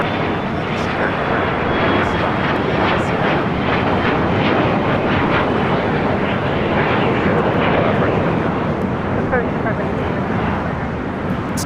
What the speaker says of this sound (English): It's Challenger 300.